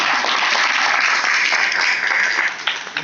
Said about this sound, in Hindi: एक बार जोरदार तालियां इन लोगों के लिए।